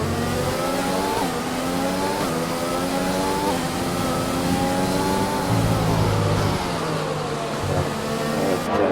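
Formula 1 cars racing at the Chinese Grand Prix scream past steadily, engine notes rising through gears and sweeping in pitch as they take a curve, loud and continuous with no talk.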